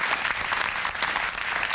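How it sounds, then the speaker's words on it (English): Studio staff clap in a steady, dense burst of applause, close and continuous for under two seconds, with no talking over it. "The staff is rebelling. They applauded my exit."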